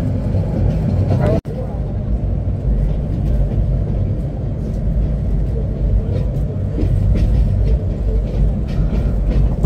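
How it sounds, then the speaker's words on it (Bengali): Kalni Express passenger train rolls into Bhairab Bazar Junction station on the Sylhet to Dhaka line, a loud steady rumble of wheels and carriage noise heard from on board, with a brief sharp break near the start. "ট্রেনটি প্রবেশ করলো ভৈরব বাজার জংশন রেলওয়ে স্টেশনে।"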